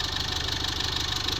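A 2018 Foton Toplander engine with suspected blowby runs steadily at idle, a close, even mechanical drone with a faint rhythmic pulse and no talking.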